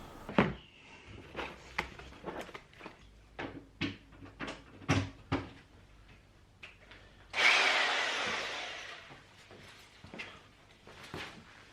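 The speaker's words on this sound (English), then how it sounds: "I'm drilling a 12mm hole for the anchor" Sharp knocking and banging sounds in a quiet room, then a rough, grinding burst of an SDS drill boring a 12mm anchor hole in a concrete floor for a couple of seconds before more scattered clunks.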